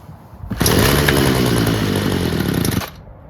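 A Homelite gas string trimmer running on choke buzzes loud and close in a steady high-pitched drone for about two seconds, then cuts off abruptly.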